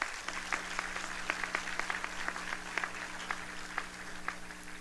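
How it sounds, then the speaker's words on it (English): A large audience at a university graduation commencement claps steadily at a distance, a continuous wash of applause with a faint hum underneath and no talking. "He deserves a round of applause."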